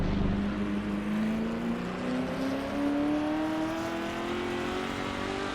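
A Ford GT40 race car engine in the Assetto Corsa racing game, lapping Le Mans, drones loud and steady throughout, its pitch climbing slowly as it holds acceleration down a straight.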